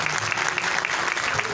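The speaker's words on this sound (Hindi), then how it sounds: "जोरदार तालियां जाएगी बुजुर्गों के लिए।" A church congregation at a worship service claps loudly for the elders, producing a dense, continuous burst of applause that stays strong from start to finish.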